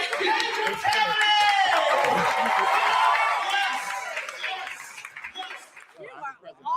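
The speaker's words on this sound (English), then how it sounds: "Ladies and gentlemen, put your hands together for the Gager family!" An audience cheers and whoops for the Gager family, a loud burst of crowd voices with some clapping that fades over a few seconds.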